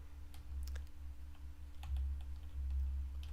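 Sparse, faint key clicks from a computer keyboard, a few soft taps scattered over a steady low electrical hum, with no voices.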